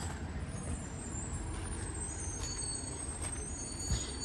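A garbage truck on trash collection day rumbles nearby in a residential street, its brakes letting out faint high squeals and brief hisses over the steady low engine drone.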